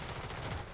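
Rapid automatic gunfire from a Call of Duty Modern Warfare Zombies match rattles as a dense, continuous burst across the whole short stretch.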